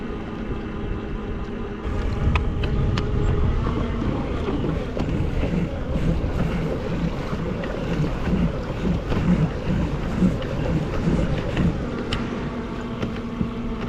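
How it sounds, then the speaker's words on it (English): Old Town Sportsman Bigwater 132 ePDL+ pedal-assist fishing kayak motor cruising on cruise control at about 4 mph on open water, a steady, fairly loud drone mixed with constant wind buffeting and water wash, no talking. "Just put the motor on cruise control and just go back to your place."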